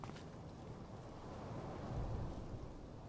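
A rumbling thunderstorm from the Life Is Strange Double Exposure video game rolls on continuously, with a deep low roar swelling near the end and a steady wash of rain-like noise, and no voices.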